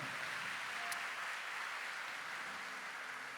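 Congregation applauding the Lord during a Catholic priest's talk on sacramentals against evil, a steady, distant wash of clapping throughout, fairly faint and even in level.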